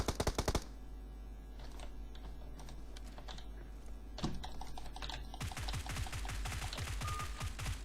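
Rapid gunfire rattles through a PUBG Mobile match on the Erangel map, with dense bursts of shots that open loudly, keep up steady clicking volleys through the middle and swell again near the end, with no talking.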